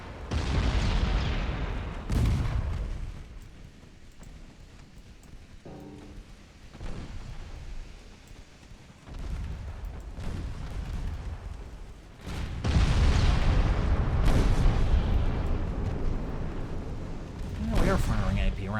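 Battleship guns firing armour-piercing rounds in the naval strategy game Ultimate Admiral Dreadnoughts produce several heavy, rumbling booms spread across the stretch, with a voice talking at times.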